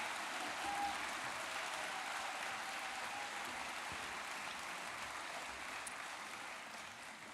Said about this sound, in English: Can we have a big round of applause for all our Bachelor of Arts in Early Childhood Care and Education graduates this morning.